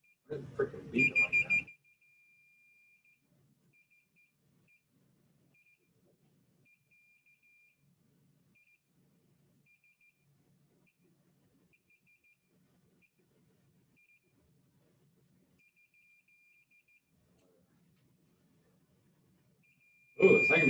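A multimeter's continuity tester beeps in a short burst of tones right at the start, then goes quiet for a long stretch before another beep sounds at the very end, inside a quiet workshop or classroom during a troubleshooting lesson.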